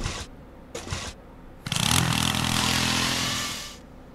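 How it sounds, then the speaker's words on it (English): A power drill in a video game bank heist whines loudly and continuously for a couple of seconds after a few brief mechanical bursts, then cuts off abruptly. "We're gonna do the drill."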